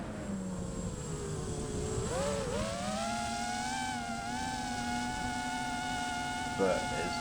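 A ZTinnovate 2207 2085kv drone motor spins up with a rising, buzzing whine that settles into a steady high-pitched tone, fairly close and continuous.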